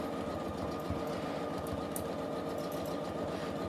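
A sewing machine running steadily at speed for free-motion quilting, giving a continuous close mechanical whir with a rapid needle clatter and no voices.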